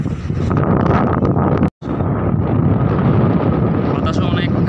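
Strong sea-beach wind buffeting the microphone, a loud continuous roar that drops out for a split second before surging back just as hard.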